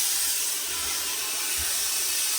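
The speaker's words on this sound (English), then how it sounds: "But let's put some steam on it first of all." Continuous hiss of a garment steamer blowing steam onto an Austrian Homburg hat during restoration, a steady broadband rush held close throughout with no pauses.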